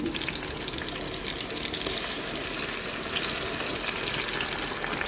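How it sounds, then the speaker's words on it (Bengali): Ground spice paste sizzles loudly in hot oil with browned onions for a duck meat curry, a steady dense frying hiss throughout with no voices. "বাটা মশলাগুলো সম্পূর্ণ দিয়ে দেবো।"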